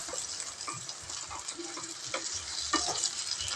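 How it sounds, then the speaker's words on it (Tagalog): Food stirred in a frying pan: a constant close sizzle with rhythmic scraping strokes of the utensil, with no voices. "Haluin lang po natin"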